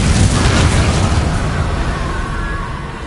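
Incendio and Confringo fire spells exploding in the Hogwarts Legacy game. A loud, sustained roaring blast of flame and boom fills the moment, then slowly fades with a faint rising tone near the end.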